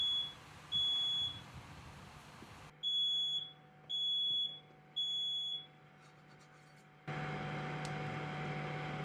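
A shrill electronic alarm in a kitchen sounds a series of evenly spaced beeps, two then three, clear and loud against a quiet room with a low hum.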